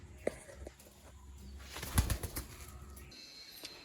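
Young Malwai pigeons at a rooftop loft near Baruipur, with a soft burst of wing flapping near the two-second mark and faint cooing amid low background noise.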